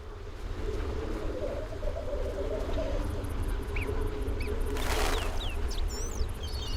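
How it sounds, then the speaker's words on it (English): Birds call and chirp in The Witcher 1 video game, on an island, over a steady background wash of ambient noise, with a brief burst of louder activity partway through. "Lots of birds."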